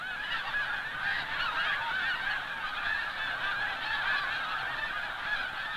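A huge flock of snow geese at Sand Lake in autumn honks continuously, a dense, steady chorus of overlapping calls from many birds at a distance.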